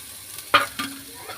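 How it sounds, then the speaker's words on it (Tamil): Grated mango and carrot sautéing in a pan, a quiet sizzle with two distinct scraping stirs and a faint clink, close by. "நல்லா வதக்கிப்போம்."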